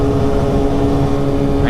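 A motorcycle rolls along a road toward Salvador do Sul in the hills, its engine a steady low drone throughout, heard from close on the bike.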